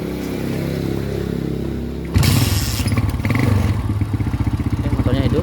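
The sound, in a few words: kick-starting a Yamaha Scorpio motorcycle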